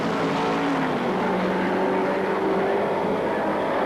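Touring race cars at Sandown circuit in 1977 lap steadily, with a continuous engine roar of several cars that stays loud and even, overlapping throughout with no talk.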